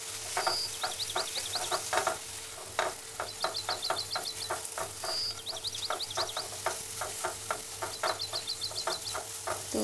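Cumin, coriander and turmeric paste frying in oil, a faint sizzle with quick ticking stirs and scrapes in an irregular rhythm, no talking.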